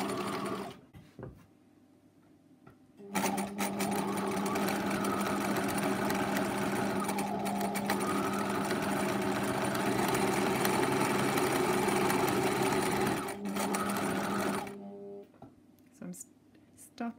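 A sewing machine stitching a dense satin-stitch buttonhole test runs in a steady, close whirring burst for about eleven seconds, with quieter pauses and faint handling noises before and after.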